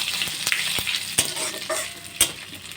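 Whole spices for tempering fry in hot oil for a banana-flower curry. The sizzle is close and steady, with sharp pops and stirring clicks at irregular intervals and no talking.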